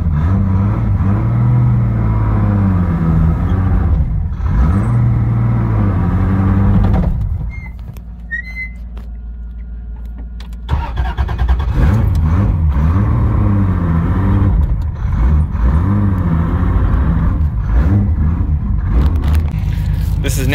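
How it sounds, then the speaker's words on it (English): Formula D drift car engine revving hard up close, loud rising and falling revs with a brief quieter idle lull in the middle before revving resumes, with some talk alongside. "Until you rev it up, and it sounds like a car."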